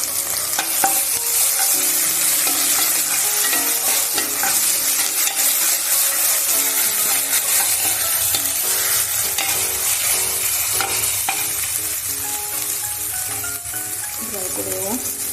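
Ginger paste fries in a clay pot, sizzling loudly and steadily while a spoon scrapes and stirs it in repeated strokes, close and busy throughout.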